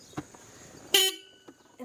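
A single loud car horn honk cuts in briefly, with faint voices and background noise around it.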